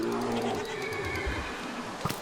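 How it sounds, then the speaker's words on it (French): A green horse in a video game neighs with a long, loud whinny, accompanied by hoof clip-clops and game sounds, with no talking over it. "Ah, mec, il y a un cheval vert."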